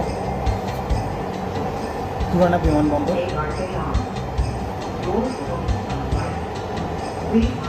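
A Dhaka Metro Rail train running between the Uttara and Agargaon stations, with a steady close rumble of wheels on track, faint squeals and rhythmic clatter inside the car, while someone talks over it.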